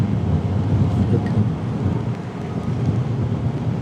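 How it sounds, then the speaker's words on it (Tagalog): A steady, dense rush of rain mixed with low rumbling wind noise on a Honda Click scooter road trip in the Philippines, loud and continuous, with no talking. "Sana wag tumuloy ang ulan."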